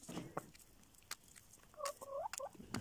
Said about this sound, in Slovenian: Naučila sam kokoške da mi jedu iz ruke.